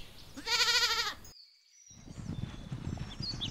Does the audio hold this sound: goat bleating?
yes